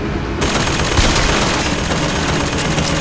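Turret gunfire in the game Bioshock Infinite: a dense, continuous roar of rapid shots that starts abruptly and stays loud and steady throughout, with no talking.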